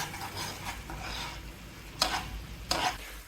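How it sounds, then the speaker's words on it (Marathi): Yogurt is stirred into onion puree for onion chutney, a soft wet mixing with a faint sizzle and two sharp scrapes of a spoon against the pan near the end. "दही छान प्रकारे आपण मिक्स करून घेणार आहोत"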